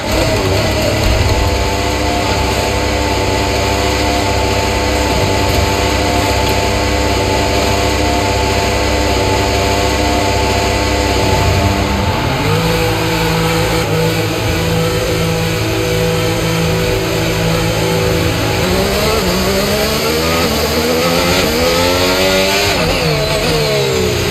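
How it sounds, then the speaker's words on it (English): Formula 1 race car engines in the F1 25 video game, playing in Monaco during a qualifying session: a loud, continuous multi-engine drone with shifting harmonic pitch, rising and falling as revs change, no talk. "Okay, engines fired up, we're set."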